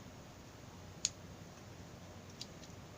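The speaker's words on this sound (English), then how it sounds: "Fairly nice scissors." Scissors on a Swiss Army Knife Huntsman clicking, two small sharp clicks about a second apart against a quiet background.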